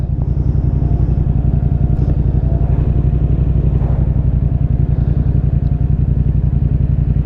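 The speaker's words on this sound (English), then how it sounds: "Hopefully you guys can still hear the exhaust note and all that." Yamaha R7 motorcycle cruising on the highway, its exhaust note a loud, steady low drone with rapid pulsing, plus wind buffeting throughout and no talking.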